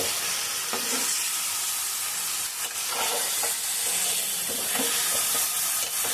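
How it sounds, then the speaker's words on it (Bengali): Meat mixed with biryani masala is stirred in a hot pan for a shortcut biryani. A constant loud hissing sizzle runs throughout, with faint scraping of stirring underneath and no voices. "আমি বিরিয়ানি মশলা সব এর সাথেই দিয়ে দেবো খুব সুন্দরভাবে দেখুন নাড়াচাড়া করে নেবো আমি"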